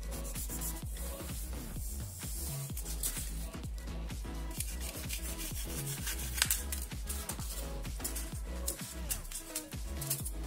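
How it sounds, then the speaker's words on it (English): Sandpaper rubs a styrofoam glider wing in quick, rhythmic back-and-forth strokes, a close, soft scratchy rasp repeating steadily throughout. "Now use your sandpaper to kind of smoothen the curve."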